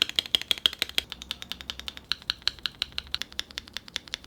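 Rapid, evenly paced key clicks from a cheap Amazon mechanical keyboard modded with foam and stabilizer tweaks, crisp and close with a soft thocky character, continuing steadily throughout.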